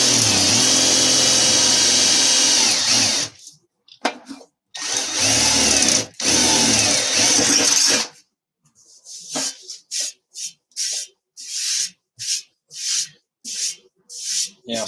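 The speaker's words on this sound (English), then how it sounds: "we'll drill one hole and then I'll go from there" A power drill bores a hole while laying out a 1000-amp power supply, with two long continuous runs of whirring followed by a series of short, stuttering bursts and pauses.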